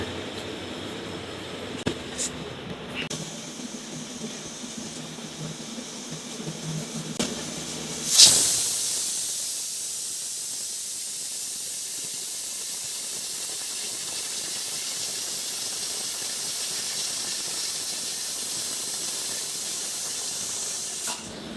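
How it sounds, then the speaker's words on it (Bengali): A pressure cooker cooking beef trotter nihari builds up and then releases a loud, steady jet of steam whistling and hissing without a break, after quieter kitchen sounds beforehand. "আমরা এই প্রেশার কুকারে কয়টা শীষ দিয়ে এই নেহারিটা রান্না করা যায়"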